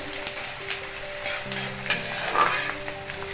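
Onions sizzle and crackle in a hot pan with bay leaves, a steady close frying hiss with occasional stirring scrapes and a faint tonal hum underneath.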